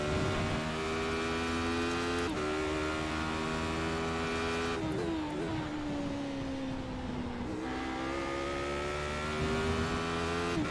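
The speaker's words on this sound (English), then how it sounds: "Let me know if the car is loud enough now." A race car engine in a racing game drones steadily at high revs, with pitch shifts as gears change and the engine slows and climbs again, loud and continuous with no voices.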